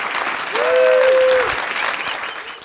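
An audience applauds a talk with a short, dense burst of clapping that swells and then fades. A brief voice tone cuts through partway.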